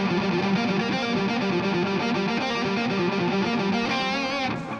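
A distorted electric guitar plays a fast flurry of notes in a solo phrase, loud and sustained with a chorus-like shimmer, and no voice over it.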